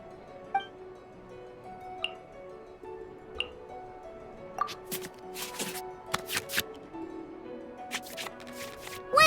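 Digital cards in a card-and-dice video game make a string of soft shuffling swishes and light clicks while they return to the draw pile, with scattered pops and ticks under a faint steady tone, and no voices.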